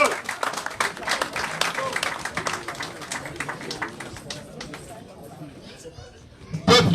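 A crowd at a political rally applauds with dense clapping and scattered cheers that gradually thin out, followed by a brief loud burst near the end.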